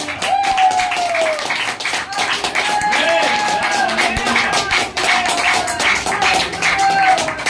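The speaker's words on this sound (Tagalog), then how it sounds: "Palakpakan natin ang ating hallelujah, buhay na Diyos" A church congregation claps steadily for several seconds during worship, dense and continuous, with voices and music mixed underneath.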